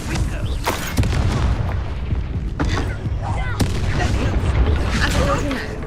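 Incendio fire spell from the Hogwarts Legacy game, a loud crackling burst of flame with sharp booming cracks and rumbling bursts of battle noise throughout.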